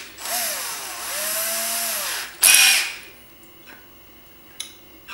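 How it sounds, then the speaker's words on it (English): A small drill with a tiny bit whirs at high speed for about two seconds, drilling a pilot hole for a kayak stern light, pitch rising and falling slightly, then a brief sharper burst before it stops and quiet handling noises follow. "I'm going to drill a pilot hole."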